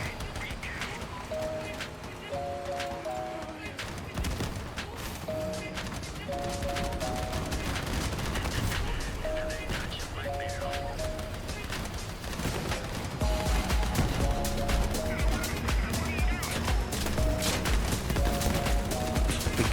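Rapid bursts of machine gun fire from a vehicle build in the combat game Crossout repeat in short rattling volleys over a steady backdrop of engine and battle noise, with a voice talking at times.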